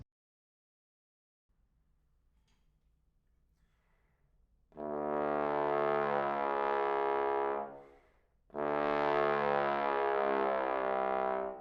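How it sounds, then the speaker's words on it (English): Two long, loud low bass trombone tones, each sliding downward in pitch from F through the slide positions to D using the double trigger, separated by a brief breath. "So do the glissando from the F through the positions until you get to the D,"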